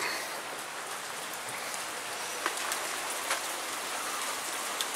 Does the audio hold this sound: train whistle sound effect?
no